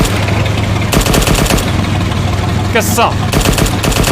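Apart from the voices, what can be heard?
gunfire in Arma 3 video game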